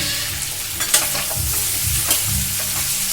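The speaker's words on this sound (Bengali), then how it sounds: "আদাটা মিশিয়ে দেব।" Grated ginger is stirred through a frying pan, with a utensil scraping and knocking in irregular strokes over constant close sizzling.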